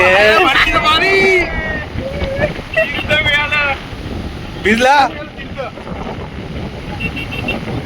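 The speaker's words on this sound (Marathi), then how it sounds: "इथे एवढी तुफान हवा आहे" Strong seashore wind at Dhanushkodi roars and buffets the microphone continuously as a loud, rushing broadband noise, with people talking over it.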